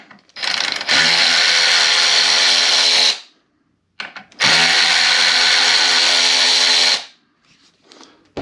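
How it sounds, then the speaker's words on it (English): A power tool whirs loudly in two bursts of about two and a half seconds each, spinning up and winding down, with brief gaps between, removing 3mm screws from a KOMOTO M1100 rear motor. "I have a power tool, so it makes it a little bit easier"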